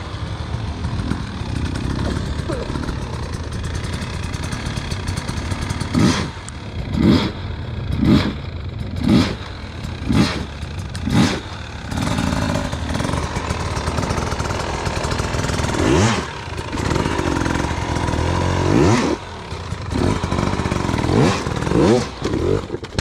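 Hard enduro motorcycle practising the double blip, its engine snapping through a series of sharp revving bursts in quick pairs and clusters over a lower idling rumble, loud and close.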